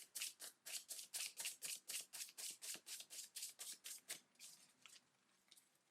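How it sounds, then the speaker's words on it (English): Tarot cards being shuffled by hand: a quick, steady run of about sixteen soft papery riffles, then a few slower, scattered ones. The sound is quiet and close, with no speech. "I'm just going to shuffle a few more times, see if anything else comes out."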